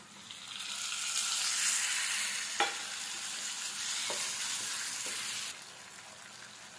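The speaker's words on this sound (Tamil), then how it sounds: "தக்காளி நல்லா வதங்குது." Chopped tomatoes sauté in an oiled pan with onion and asafoetida for a dried anchovy thokku, giving a steady soft sizzle broken by a few sharp stirring scrapes, heard alone without talk.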